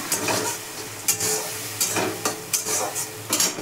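Chicken stir-frying in a pan with green chilli paste and turmeric: close, rhythmic scraping strokes of a spoon over a continuous sizzle, with a few clinks of utensil on metal.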